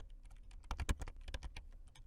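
Typing a heading into an Excel spreadsheet on a computer keyboard gives soft, close, rapid key taps, a little louder in the middle, with no voices.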